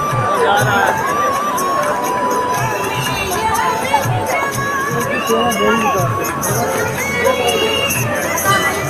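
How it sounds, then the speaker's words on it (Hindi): A dense crowd at Ban Ganga ghat on the Vaishno Devi pilgrimage route, a continuous loud babble of voices with children shouting and scattered calls rising above the hubbub. "यहाँ भीड़ थोड़ी ज़्यादा है"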